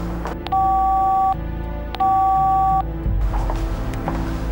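Electronic phone tones from a call to a number that is not active: two long steady beeps, each about a second, with a brief click between them, then fading into background noise.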